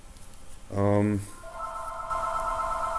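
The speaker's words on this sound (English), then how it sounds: "The phone's ringing right now." A short electronic telephone ring tone sounds once, followed by a sustained higher beeping tone, with faint background noise.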